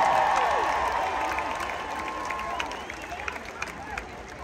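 Concert crowd at the Minnesota State Fair applauding and cheering, loud at first then tapering, with whoops and scattered claps under a voice speaking over it.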